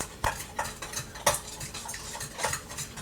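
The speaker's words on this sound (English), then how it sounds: "One egg, a scoop of yogurt. Let's get that all blended together here." A fork beats one egg and a scoop of yogurt together in a soup bowl, making quick, uneven taps and clinks of metal on the bowl over a soft wet stirring, close and with no talk.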